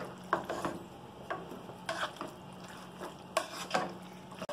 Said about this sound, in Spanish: Vamos a sofreírlo durante 3 minutos, porque ya llevamos como 1 minuto sofriendo